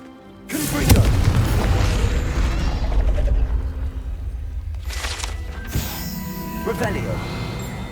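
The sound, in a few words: Confringo explosion spell cast in Hogwarts Legacy video game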